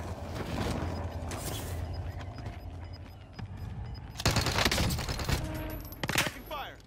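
Gunfire in the video game Call of Duty Warzone: bursts of automatic shots crackle through a busy mix, growing louder and denser in the last few seconds.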